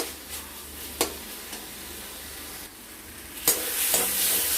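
Katla fish masala with whole tomatoes being stirred in a frying pan over raised heat, steady sizzling with a few sharp spatula scrapes and knocks against the pan.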